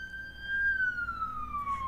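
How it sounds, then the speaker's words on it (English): A police car siren passing outside a window: a steady, sustained wail with a long, slowly falling pitch, moderately loud and heard indoors at some distance, over a low background rumble. "there goes a police car right by my window, which a siren I always feel like is some kind of a confirmation"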